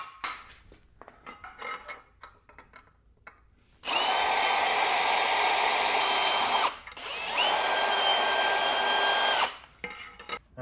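A power drill drives screws to mount a brace for a wall-mounted tire rack. Two loud, steady whirring runs of about three seconds each follow light handling knocks and clatter, with a short pause between them.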